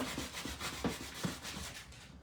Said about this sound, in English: a light sanding with a fine grit sandpaper to get it all smooth